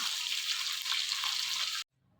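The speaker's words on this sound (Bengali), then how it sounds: "শাকের জন্য মাছের মাথা ভাজা হচ্ছে" A fish head fries in oil, a bright, close sizzle that holds steady and then stops suddenly, leaving quiet.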